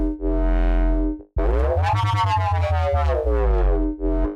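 Synthesized Reese bass without its duplicated multiband compression, two sustained buzzing, detuned bass notes separated by a brief gap, dry and upfront.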